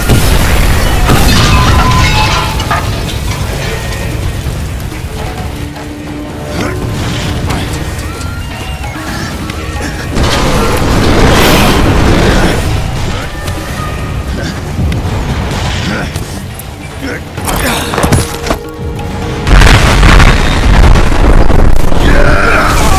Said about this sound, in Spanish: Habrá una detonación en los generadores del núcleo de gravedad.